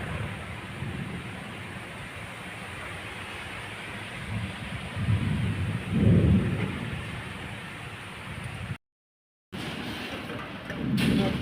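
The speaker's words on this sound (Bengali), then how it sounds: "মেঘও গজরাচ্ছে।" Thunder rumbles low and distant through a steady downpour of heavy rain, the deep rolls swelling midway before the rain hiss briefly cuts out and returns.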